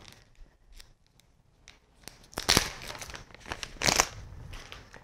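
Packaging holding Dirt Racing Products scissors is handled and torn open, with faint early rustles, then two loud bursts of crinkling plastic and cardboard tearing close by.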